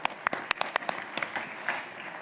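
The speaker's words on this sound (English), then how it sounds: "A huge round of applause again, ladies and gentlemen, for Rishabh Shetty." Applause at a business leaders awards ceremony in India: a few distinct sharp claps at first, then a thin, moderately close scattering of clapping that carries on at an even level to the end.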